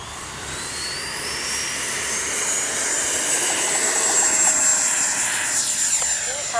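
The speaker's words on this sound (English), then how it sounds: "All right, we're going to take off this time" An FMS 70mm F-18F radio-controlled electric ducted-fan jet spools up for takeoff, a steady rising whine that swells louder over several seconds with no voices.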